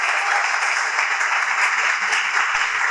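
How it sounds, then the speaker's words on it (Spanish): Dense, steady applause from an audience fills the whole stretch, loud and close, with many hands clapping at once and no pause. "vamos a darle un aplauso al Espíritu Santo"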